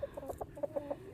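A young Americana-mix rooster clucks in a quick run of short, close, evenly spaced calls, about eight bursts in just over a second, clear and alone without speech.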